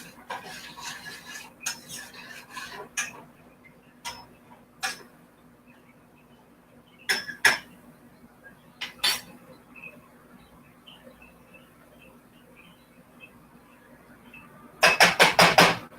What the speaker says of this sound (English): I'm going ahead and putting the coconut flake in there